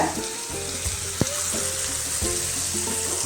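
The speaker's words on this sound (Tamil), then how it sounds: "இப்போ நல்லா வதக்கலாம். வதங்கிறதுக்கு தேவையான அளவு உப்பு சேர்த்துக்கலாங்க." Tomatoes with salt sauté in a pan for a chicken curry, giving a steady, close sizzle broken by a few sharp scrapes and stirring knocks, with no talk.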